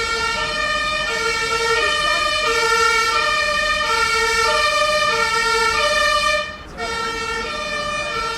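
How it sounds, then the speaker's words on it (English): Ambulance siren wailing steadily with a repeating two-tone pattern, loud and continuous over the hum of heavy road traffic, briefly dipping near the end. "I think it's an ambulance trying to get by"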